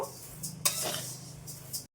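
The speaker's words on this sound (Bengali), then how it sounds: "ডালটা আমি হালকা করে ভেজে নেব মুগ ডাল" Mung dal dry-roasting in a pan is stirred with a utensil, giving soft scraping and rattling strokes over a faint sizzle, with one sharper clink near the middle and a few brief bright scrapes toward the end.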